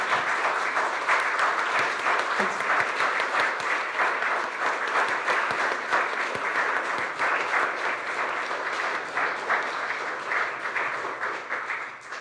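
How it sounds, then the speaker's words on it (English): A church congregation at a Sunday service applauds Liz Coit's retirement, a dense, sustained round of clapping from a large crowd that holds steady for about twelve seconds and tapers slightly at the end, with no talking over it. "give a big round of applause to Liz Coit"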